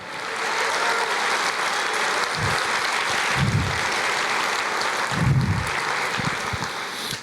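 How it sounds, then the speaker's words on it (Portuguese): A church congregation applauding steadily for several seconds after a preacher's call, a dense, even wash of clapping with no voices over it. "Aplauda mais, libere esta unção"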